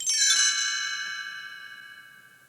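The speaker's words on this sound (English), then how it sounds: "You will know it is time to turn the page when you hear the chimes ring like this." A single bright page-turn chime from a read-along book on cassette rings out clearly and alone, its tones lingering and slowly fading over a couple of seconds.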